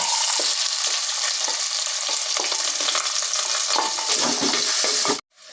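Onions sizzle loudly in hot oil with fennel seeds in a pan, a continuous bright frying hiss with a few stirring sounds, cutting off abruptly near the end.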